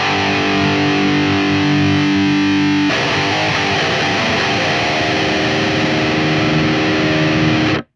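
Heavily distorted metal guitar plays through a tube-modelled impulse response, loud and dense: held chords first, then a darker, muffled chugging riff that goes on steadily with no talk.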